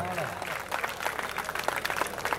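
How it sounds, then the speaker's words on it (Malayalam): A crowd at a Kerala tug of war tournament claps to send off a departing team, a continuous patter of applause mixed with crowd noise. "29 സ്ഥാനക്കാരായി പുറത്തു പോകുന്ന തരംഗിണി വഴിപ്പുഴ ടീമിനെ കൈയടിച്ച് യാത്രയാക്കുക."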